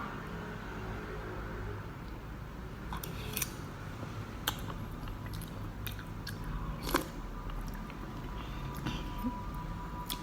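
Quiet, close chewing and crunching while eating khanom jeen nam ya with grilled chicken and chili, with sporadic sharp bites and clicks over a steady low background hum.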